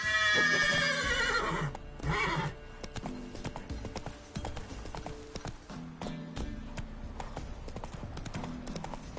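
A horse in the video game The Witcher 3 whinnies loudly, then hooves clip-clop in a steady trotting rhythm, with a second brief neigh partway through.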